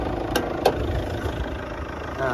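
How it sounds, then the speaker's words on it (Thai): A 2010 Chevrolet Captiva's 2000cc diesel engine idles steadily close by with a low, even rumble and a couple of faint clicks, and no one speaks over it. "เครื่องยนต์สตาร์ทติดนิ่มนะครับ เครื่องดีเซลนะครับผม"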